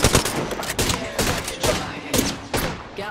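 Rapid bursts of gunfire in the shooter video game Apex Legends, several sharp volleys in quick succession at close range, moderately loud with a brief game voice line mixed in.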